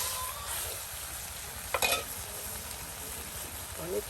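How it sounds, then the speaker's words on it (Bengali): Chicken pieces are stirred into sautéed spice paste in a pan over a village cooking fire, with a low, continuous sizzle, soft scraping and an occasional louder clack of the spoon against the pan. "দেখুন কত সুন্দর করে একদম সেই কষানো মশলার সাথে মাংসগুলো একদম মিক্স করে নেওয়া হচ্ছে"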